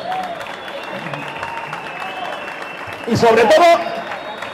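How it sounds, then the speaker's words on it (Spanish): Brief burst of applause from a crowd at a cycling demonstration in Elche, rising suddenly near the end over steady outdoor street noise and someone speaking. "les damos las gracias y un aplauso"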